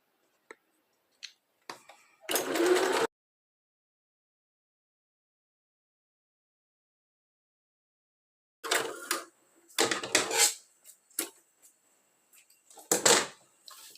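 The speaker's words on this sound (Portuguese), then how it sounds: "Eu vou costurar dos dois lados, tá? Eu sempre faço a costura dos dois lados pra ficar bem reforçado." A sewing machine stitching a strap for a phone bag runs in short, separate bursts of rapid mechanical clatter, with quiet pauses between the runs.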